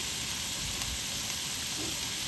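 Ground beef sizzles steadily in a hot pan, seasoned with Italian seasoning, a constant close hiss and crackle with no talking.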